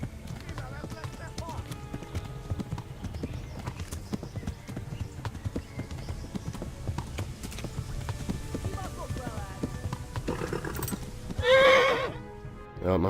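A horse's hooves clip-clop steadily through a steady rumble of riding in Kingdom Come: Deliverance, with a loud neigh rising near the end, no speech over it.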